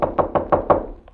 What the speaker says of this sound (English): The Nazi knocks on the door.